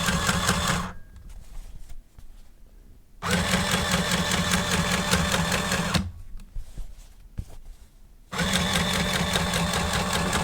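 A sewing machine stitches over a thick denim jeans seam in three loud, steady bursts of rapid mechanical whirring, separated by short quiet pauses.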